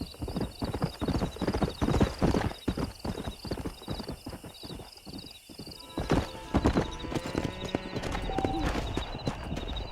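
Horses in the video game Red Dead Redemption, quick clip-clopping hooves close by, with a horse whinnying partway through and a steady ambient hum beneath, faint voices in the mix.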